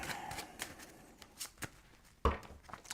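A deck of tarot cards is shuffled by hand in a quiet room, a series of short crisp riffles and taps, ending with a sharper snap.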